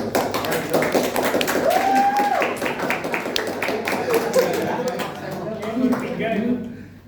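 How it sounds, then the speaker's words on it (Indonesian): A small group claps after a presentation, a scattered, steady patter of hand claps at moderate distance, with voices talking over it and the clapping thinning out toward the end. "Tepuk tangan dong."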